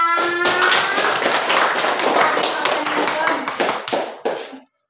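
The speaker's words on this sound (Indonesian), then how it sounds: "semangat dong tepuk tangannya" A room full of children claps hands in a loud, continuous burst, the dense patter carrying on for several seconds before breaking into a few final separate claps and cutting off.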